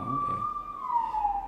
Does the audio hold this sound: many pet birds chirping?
no